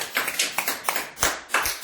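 An audience in a university lecture hall claps in short bursts, a series of quick separate claps rather than one sustained round of applause, moderately loud and close.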